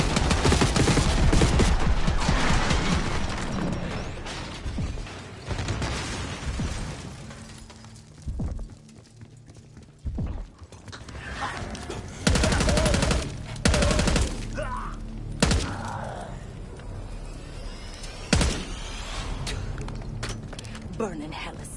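Gunfire and explosive bursts from a Call of Duty campaign mission, loud and dense at first with heavy volleys, then sporadic shots and impacts amid shouted voices and game noise.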